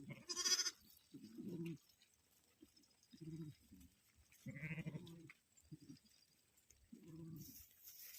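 Sheep and lambs at a pen bleating in separate bursts, about seven calls spaced irregularly, fairly close, with quiet pauses between them.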